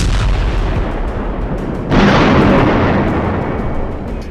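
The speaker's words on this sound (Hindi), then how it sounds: "जिस वक्त गाजा की गली गली में इजराइल के बम गिर रहे हैं" Israeli bombs explode in Gaza, a loud deep blast that breaks out of an ongoing rumble about two seconds in and then slowly fades into a rolling roar.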